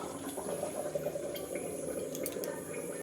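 Potatoes boil in a covered pot, giving a steady bubbling, watery rush that stays fairly close and continuous for the whole stretch, with no voices over it.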